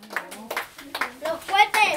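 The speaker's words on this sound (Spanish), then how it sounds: "Aplauso para Cristian." Children and adults at a kids' birthday party with a piñata clap in short rhythmic bursts, several distinct claps spaced across two seconds, mixed with children's voices and chatter.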